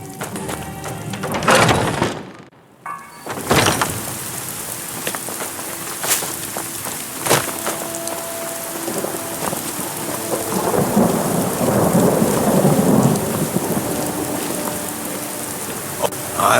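Heavy rain pours steadily in Skyrim while rolls of thunder rumble through, with one sharp crack early on and a brief hush before the downpour resumes and builds toward the end.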